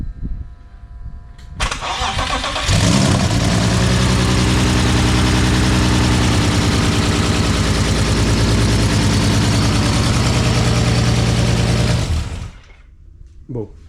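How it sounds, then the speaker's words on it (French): A BMW E36 with a swapped M54B30 turbo engine, running on E85 without lambda sensors, cranks and fires into a loud, harsh, rumbling idle that holds steady for about ten seconds before cutting off abruptly. "Bon, déjà il démarre. Il fait un énorme bruit"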